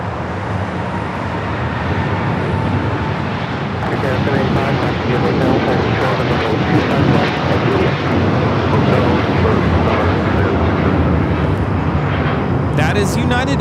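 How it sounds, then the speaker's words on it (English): A United Airlines Boeing 787-9 Dreamliner takes off at Los Angeles airport with a loud, broad jet engine roar that swells and holds steady. Traffic noise blends in, and a voice talks over it at times. "That is United Airlines Flight 32 taking off to Tokyo, Narita on the 787-9 Dreamliner"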